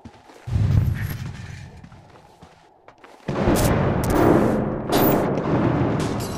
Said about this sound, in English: Were those gunshots?